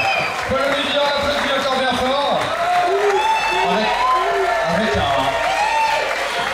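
A crowd applauds steadily and loudly for a performer, continuous dense clapping with some cheering while a voice speaks over it throughout.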